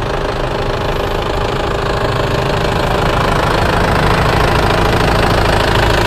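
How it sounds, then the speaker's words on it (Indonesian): An Opel Blazer's Panther turbo diesel engine idles right beside the listener with a steady, loud, knocking clatter and a constant mechanical rattle for several seconds, with no talk. "untuk mesinnya sudah menggunakan mesin diesel Panther turbo ya"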